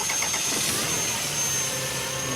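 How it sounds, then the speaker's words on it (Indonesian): Car engine cranked by the starter and catching, a steady loud mechanical whir and drone throughout with faint whining tones, close up. "Kita coba dulu starter."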